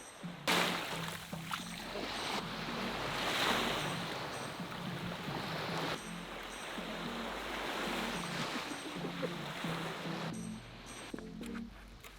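Ocean waves wash steadily onto a beach near a rental beach house, a broad continuous roar that swells and eases over several seconds, mixed with wind and no talking.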